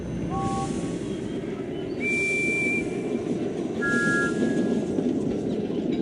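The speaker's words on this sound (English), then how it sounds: "One of these whistles sounds like Thomas's." Steam engine whistles from a Thomas & Friends game sound in turn, three distinct tones of different pitch, each under a second, layered over a continuous rumbling train-like background.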